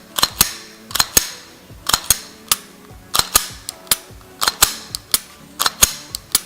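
Sharp repeated clacks of a handgun fitted with a LaserMax guide rod laser being worked by hand, a dozen-plus crisp close mechanical snaps in irregular pairs and clusters, loud and dry with no talk.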